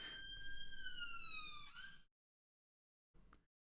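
A loud electronic siren wails in a falling sweep, cuts off abruptly, then a short burst sounds again after a pause.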